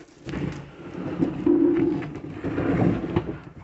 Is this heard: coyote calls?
no